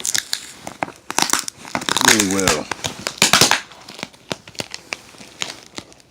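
A cardboard package box is ripped open by hand, giving close, repeated tearing and crinkling bursts mixed with ongoing talk.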